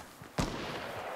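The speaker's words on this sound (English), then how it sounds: "Oh, hey, gunshots." A single sharp gunshot in the video game Fortnite cracks out, followed by a lingering reverberant tail over quiet game ambience.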